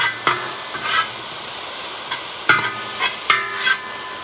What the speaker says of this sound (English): If you ever put so much in that it stops sizzling, it means you've overloaded your wok.